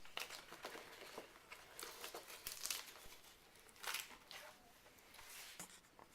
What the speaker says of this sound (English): So I'm going to unload the machine.